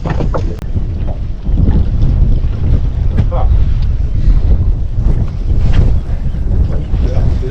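Steady wind rumbles and buffets the microphone outdoors on open water while drifting on a boat, a continuous low roar with a few faint knocks.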